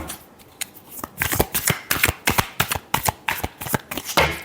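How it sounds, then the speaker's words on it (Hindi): Tarot deck shuffled up close during a reading, a quick rhythmic series of papery flicks and taps, distinct and fairly loud, with no voices. "last shuffle"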